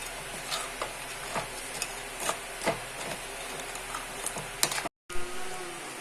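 Mangalorean crab curry, jenji gassi, simmers in a pan with a soft sizzle, while a utensil stirs and taps against the pan in irregular clicks, close up and without talking.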